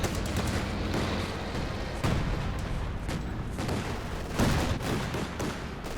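Artillery barrage and gunfire in Company of Heroes 2 (2v2 match): a dense, continuous rumble of shelling and rattling fire with sharper booming impacts around two and four and a half seconds, no voices.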